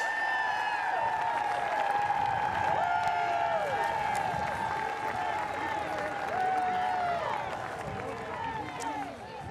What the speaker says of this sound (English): a round of applause for the Colorado Emerald Society Pipe Band and the Denver Police Department's pipes and drums